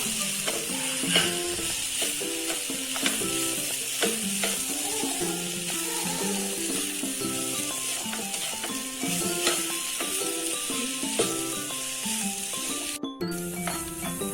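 Ripe banana is stirred in a pan to soften it, with a soft continuous sizzle and scraping stirs running steadily beneath background music.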